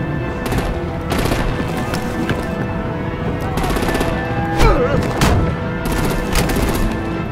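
Rapid bursts of machine-gun fire and heavier blasts from a Batman video game battle, loud and close, with volleys repeating in clusters across the scene.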